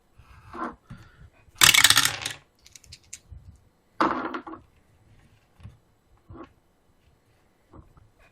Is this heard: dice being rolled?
yes